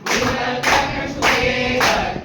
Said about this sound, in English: We'll all clap hands together.